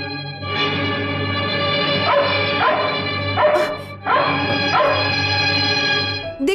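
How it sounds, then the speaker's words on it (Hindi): A dog barks repeatedly at a stranger, several loud, close barks in bursts with brief gaps, heard over a steady background music or hum in an old Hindi film scene. "वैसे ही ये कुत्ता मुझे देखकर भौंक रहा है।"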